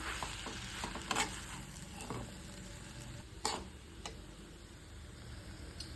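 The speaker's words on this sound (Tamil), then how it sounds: "நல்லா மிக்ஸ் பண்ணணும்." Leftover chapati pieces are tossed and mixed in a pan for chilli chapati, a low sizzle with irregular scrapes and taps of a spatula, fairly quiet and close.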